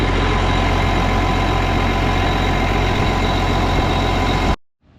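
A Case 305 engine idles steadily with its exhaust manifold gaskets newly replaced, a loud, even, low rumble carrying on close and unbroken for about four and a half seconds before cutting off abruptly.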